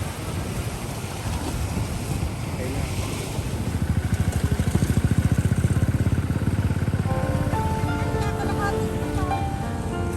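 A motorcycle tricycle engine revs and putters nearby, swelling louder midway, over steady wind and surf noise.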